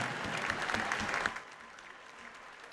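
Crowd at a Collinsville CUSD 10 Hall of Fame induction during a basketball game gives a round of clapping, lively for about a second and a half and then tapering to faint scattered claps.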